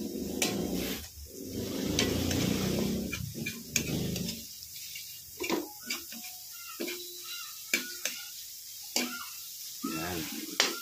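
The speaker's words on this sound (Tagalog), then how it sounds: "Then ihalo na natin yung bawang at sibuyas" Garlic and onion sizzling as they are stirred in a frying pan, with a steady crackling hiss early on, then sparser scraping and stirring taps spaced a second or so apart; a voice talks briefly near the start.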